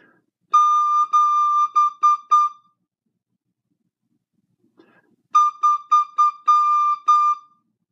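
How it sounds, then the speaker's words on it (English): A descant recorder played with no holes covered gives clear, bright tongued notes on one pitch. Two bursts of about six short articulated notes are separated by a few seconds of silence. "into the recorder, without covering any holes"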